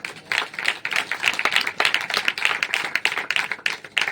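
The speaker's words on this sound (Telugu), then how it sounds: "చప్పట్లు కొట్టండి" An audience claps hands at a church sermon, a dense, steady patter of many hands lasting a few seconds, fairly close and loud, with no talking over it.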